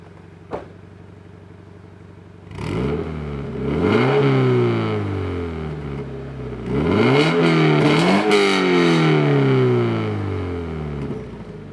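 A stock Toyota GT86 with its exhaust valves closed, after a single sharp click, revs twice in long rising and falling sweeps, loud and close, the engine note climbing smoothly then dropping back to idle.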